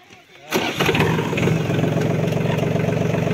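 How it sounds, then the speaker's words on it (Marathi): A tractor engine cranks and catches about half a second in, then settles into a steady, loud, rhythmic diesel idle close by. "आता ट्रॅक्टर घेऊन चाललोय. आधी चालू करूया"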